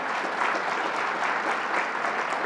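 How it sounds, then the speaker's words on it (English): A crowd at a New York event gives Howard Zemsky a fresh round of applause, dense and sustained, with many hands clapping steadily and no speech on top. "How about another round of applause for Howard Zemsky?"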